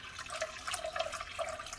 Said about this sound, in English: To that, I'm going to add some cool water.